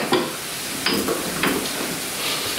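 Garlic and pepper fry in a pan with a soft, steady sizzle, punctuated by a few short scraping and stirring knocks as a pestle presses them; no speech.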